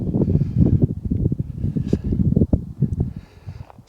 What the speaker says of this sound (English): I can hear is the wind blowing.